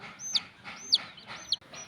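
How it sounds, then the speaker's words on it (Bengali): Three thin, high peeps from chicks, spaced roughly half a second apart, close by and fairly quiet. "ও এখন মুরগির বাচ্চাদের খেলছে।"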